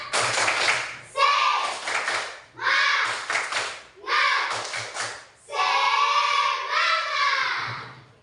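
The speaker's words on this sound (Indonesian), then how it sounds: "Pakai tepuk semangat yang lama saja ya" A school class of children chants in unison and claps in rhythm to cheer on a classmate. The bursts of voices and claps come in short, repeated phrases, with a longer chant at the end.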